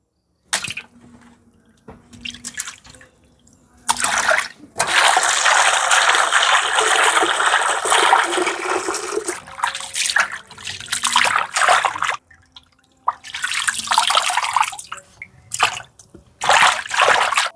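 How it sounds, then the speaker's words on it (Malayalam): Raw beef is washed in a home kitchen under a running tap: bursts of water gush and splash in on-off spells, with one long, loud stretch of flowing water and quiet gaps between. "ബീഫ് കഴുകി നീറ്റാക്കി."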